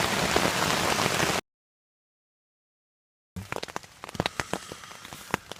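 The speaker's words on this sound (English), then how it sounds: "Second thunderstorm of the night." Heavy rain pours on a tent at a scouts' campsite during a pre-dawn thunderstorm, first as a dense steady roar, then after a gap as scattered loud drops and patters striking the surface.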